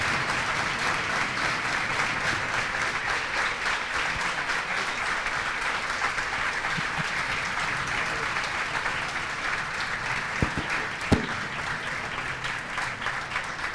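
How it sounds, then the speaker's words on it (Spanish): Steady audience applause fills a panel session with the curators of Argentina's pavilion at the Venice Biennale, dense clapping sustained throughout with a couple of sharper claps near the end. "muchas gracias por los aplausos"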